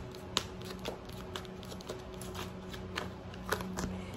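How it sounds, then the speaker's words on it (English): Cards from a tarot-style deck are shuffled and drawn, giving soft continuous riffling with small irregular taps and flicks, close and fairly quiet, with no talking. "Let's get one card from the Rebel deck."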